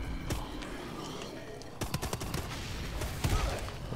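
Rapid bursts of automatic gunfire and weapon shots ring out in a Call of Duty Exo Zombies match, loud, dense volleys that stay near and keep going, with brief gaps and harder clusters of shots, plus background game noise and a few voice sounds.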